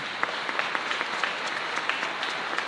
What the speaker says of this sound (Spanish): Fuerte aplauso para la Virgen.